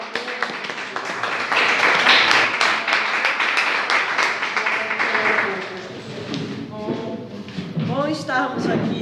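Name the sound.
congregation clapping for Jesus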